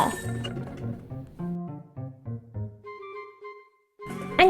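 Bright chiming clinks in a quick descending run, then a sparkling higher shimmer, and a loud burst at the end: the gold gacha pull jingle in Honkai: Star Rail.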